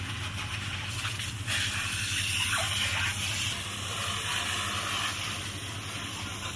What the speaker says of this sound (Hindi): अब बारी आती है इस पे पानी मारने की।